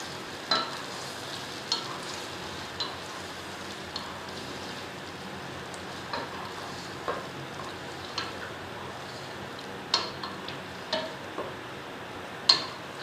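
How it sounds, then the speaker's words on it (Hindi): Yogurt-marinated mutton pieces being sautéed in a pot over medium heat, with a steady soft sizzle under regular scraping stirs that knock against the pot about once a second. "अब हमने ये जो गोश्त मैरिनेट करके रखा हुआ था दही में, वो हमने इसमें ऐड करना है।"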